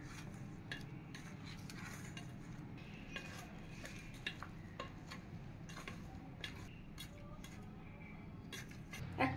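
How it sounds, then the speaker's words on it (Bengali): Onion petals and tomato are tossed and mixed together for homemade paneer tikka, with a steady run of soft scraping and occasional sharp clinks of a utensil against the bowl, close and fairly quiet throughout. "এবার সব একসাথে মিশিয়ে নেওয়া হবে"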